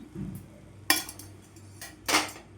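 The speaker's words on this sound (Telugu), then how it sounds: "ఇవి ఒక ప్లేట్లో వేసుకుందామండి" Freshly fried brinjal bajji set down on a plate, giving two sharp clinks of metal and crockery about a second apart, close and fairly quiet, with soft handling noise between them.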